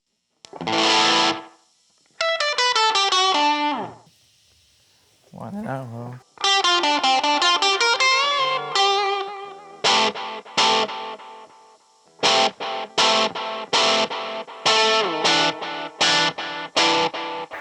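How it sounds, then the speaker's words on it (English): Distorted electric guitar through an amp with a lo-fi tone plays a run of descending notes, sustained chords and a choppy rhythmic riff, with a brief spoken remark partway through. "This amp literally sounds like lo-fi compared to the other one."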